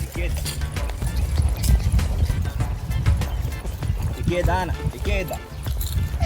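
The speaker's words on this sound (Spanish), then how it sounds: "la tranquilidad de un paseo a caballo" Horse hooves clip-clop steadily along a trail during a countryside ride near Trinidad, Cuba, a rhythmic clopping under almost constant talk, with a faint whinny-like sound at one point.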